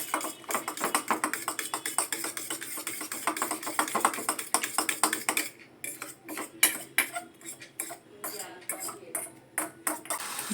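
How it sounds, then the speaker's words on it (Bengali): Eggs with onion, green chilli and salt are whisked in a bowl, a fast run of metallic clinks that turns into sharper, spaced taps, close and loud, with a faint voice in the background. "লঙ্কা সব দিয়ে ভালো করে ডিমটা ফেটিয়ে নিচ্ছি।"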